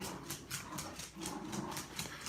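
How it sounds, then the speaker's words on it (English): Dogs run back and forth and jump on a bed in another room: a steady, rapid series of soft thumps and scrabbling, moderately faint, with no voices. "Those bastard dogs. I know it. They are jumping on our bed. They keep running back and forth."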